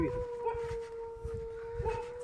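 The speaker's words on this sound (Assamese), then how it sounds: "জংঘলৰ মাজে মাজে কুকুৰৰ আৱাজ" Dogs bark and howl somewhere in deep jungle at night near the Assam–Mizoram border. The calls are faint and distant, rising twice over a thin, steady whine, with soft voices murmuring nearby.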